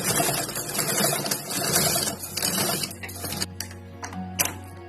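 A sewing machine runs steady topstitching through bag fabric and its lining, a continuous close mechanical whir with small ticks that slows and stops near the end, leaving faint hum.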